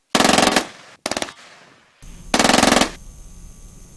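Automatic gunfire at an army brigade shooting range in Benin City comes in three close, loud rapid-fire bursts separated by brief pauses, with no talking.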